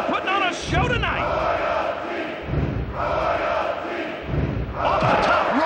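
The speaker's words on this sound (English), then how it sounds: "This crowd is crazy." A wrestling arena crowd in WWF Attitude on the PS1, during a wrestler's match, roars loudly in surging waves, with shouts and thuds mixed into the crowd noise and voices heard over it.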